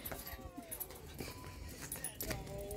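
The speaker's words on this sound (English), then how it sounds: "Alright, now they're both barking." Two pet dogs barking and whimpering indoors, faint and scattered yips and whines in an irregular rhythm, with a person's voice mixed in.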